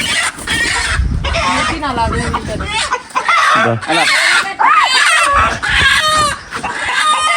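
A hen clucks loudly and agitatedly up close in rapid bursts, with people talking over it.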